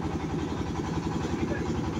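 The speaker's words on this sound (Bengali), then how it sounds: "নৌকাটা রওনা দিচ্ছে আমার" A boat engine chugs steadily as the boat sets off on the Padma river, a continuous close, even drone with a low rhythmic throb throughout.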